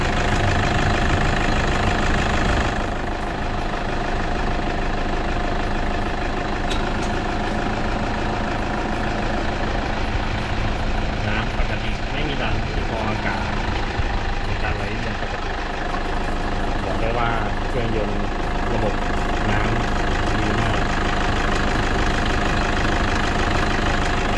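A 2013 Toyota Hilux Vigo Champ pickup engine idles steadily and loudly up close, a constant rumbling drone with a faint rhythmic knock running throughout.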